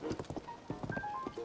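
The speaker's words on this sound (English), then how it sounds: "Riding a horse." Horse hooves clip-clop in rapid, uneven beats while riding in the video game Zelda: Tears of the Kingdom, close and moderately loud, with brief game chimes and tones layered over the steps.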